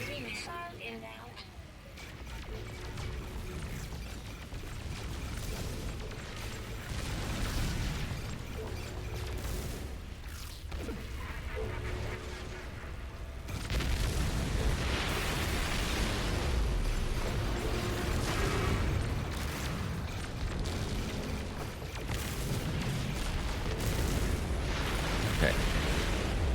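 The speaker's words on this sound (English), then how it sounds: "Enemy missile inbound." Missile blasts during a No Man's Sky space battle, deep rumbling booms and bursts building into a continuous heavy roar, with someone talking over parts of it.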